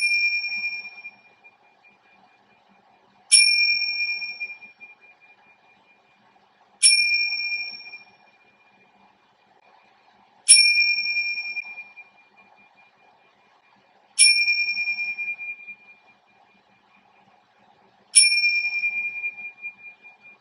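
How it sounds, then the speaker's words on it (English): Tibetan bells struck five times at steady intervals of about four seconds during a meditation session, each a clear, bright ring that vibrates and fades slowly, heard alone in quiet. "close your eyes and hear the vibration of these Tibetan bells"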